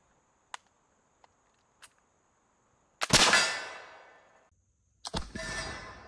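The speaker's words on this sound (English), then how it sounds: "Let's continue to shoot." An antique Model 1816 flintlock musket fires twice, each a sharp crack with a long rumbling roar that fades over about a second, preceded by a few faint clicks of the lock.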